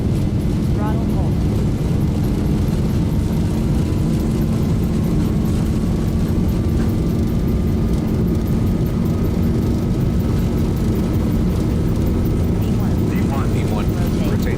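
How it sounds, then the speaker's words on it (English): Jet airliner engines spooling at takeoff thrust in a flight simulator game, a steady loud roar with a slowly rising whine that holds throughout, voices heard faintly over it. "Takeoff thrust set."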